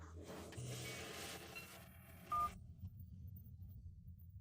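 A phone is dialed, a short run of keypad tones followed by a brief bright beep, faint and close, with a quiet room behind.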